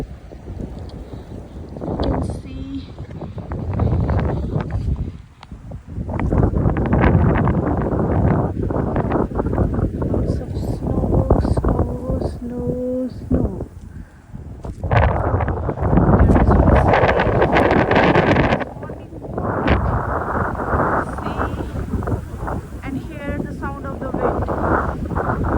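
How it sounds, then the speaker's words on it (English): Strong wind gusts roar and buffet the microphone during a winter snowstorm with freezing rain at -25C, swelling and fading in long waves, with a voice heard faintly beneath. "the wind gusts."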